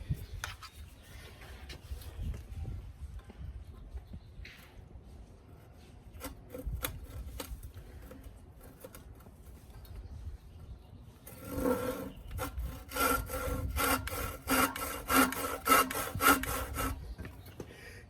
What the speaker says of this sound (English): All right, now we cut it again.